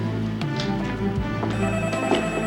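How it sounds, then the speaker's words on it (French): An old-style telephone bell rings loudly and close by, a steady metallic trill running through the whole moment over a faint hiss of background noise. "Téléphone."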